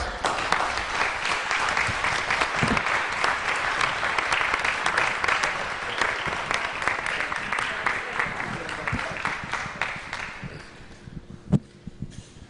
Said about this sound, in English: please welcome with a hearty round of applause, Orange County Sheriff Jerry Demings